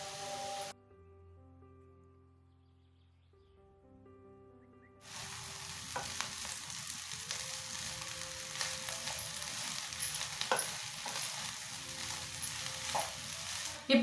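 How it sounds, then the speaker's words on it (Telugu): Vegetables and cooked rice sizzle and crackle loudly as they are stir-fried on high flame for veg fried rice, following a brief quieter stretch, with scraping stirs throughout. "పొడి పొడిగా చేసుకున్న అన్నాన్ని ఇందులో వేసి హై ఫ్లేమ్లో వేయించుకోవాలి."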